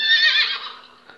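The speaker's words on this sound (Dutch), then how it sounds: "nadat je mijn paard hoort hinniken" A horse neighs in one loud, close whinny that wavers and fades over about a second, heard alone without talk.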